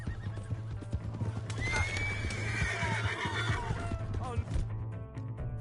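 Horse in Red Dead Redemption 2 on PS4, hooves clip-clopping steadily with a sharp whinny partway through, over a low constant hum.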